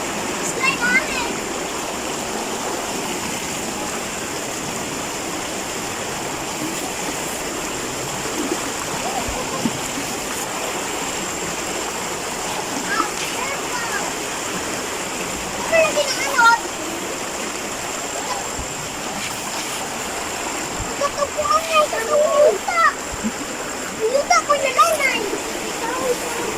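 Strong floodwater after heavy rain rushes in a continuous roaring, splashing torrent in a rural countryside setting, loud and close throughout, with people talking over it now and then.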